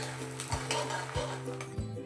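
Kalonji seeds roast in hot oil in a pan, a soft steady sizzle under repeated scraping strokes of a spoon stirring roughly every half second, close and fairly quiet.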